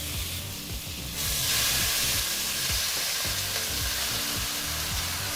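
Mutton frying with turmeric and chili powder in a pressure cooker over medium flame; a close sizzle swells louder after a second and carries on steadily, with scraping stir strokes underneath.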